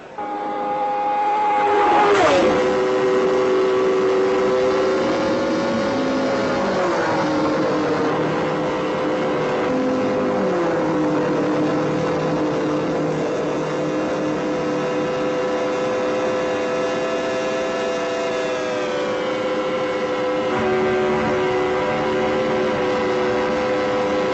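1960s Grand Prix race cars roaring side by side past the pits, a loud sustained engine howl whose pitch sweeps down and levels off as they pass, with no voices over it.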